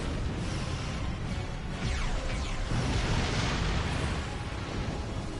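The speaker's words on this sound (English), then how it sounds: "an explosion right in front of you will damage your shields, as that just happened right there" A spaceship blows up in Star Trek Online, a loud, dense rumbling explosion that roars on without letup across the whole stretch, with sweeping whooshes running through the middle.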